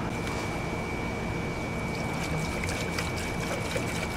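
Transmission fluid flows through a funnel down the dipstick tube of a 2007 Honda CR-V, giving a steady, even pouring hiss with no talk.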